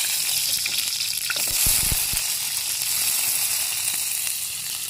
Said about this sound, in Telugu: ముందుగా నూనె వేడైనాక ఉల్లిగడ్డలు వేయాలి